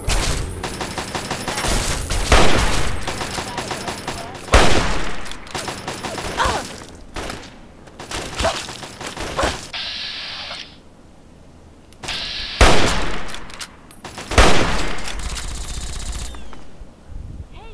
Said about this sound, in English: So let's get out this hunting rifle.